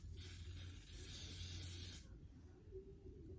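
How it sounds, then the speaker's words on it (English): A close, steady hiss of spray misting for about two seconds, then it stops, leaving quiet room tone. "I'm just gonna spray it on."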